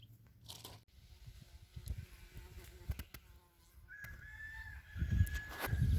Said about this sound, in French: on va laisser la petite poule tranquille